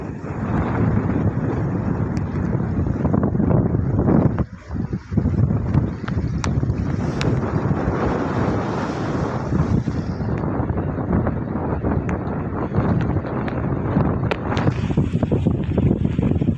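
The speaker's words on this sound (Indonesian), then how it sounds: "Ada angin, enak banget angin lagi." Steady wind buffets the microphone on the deck of the Bakau ferry crossing at Merak, a continuous rumbling roar with slight gusts throughout and no voices.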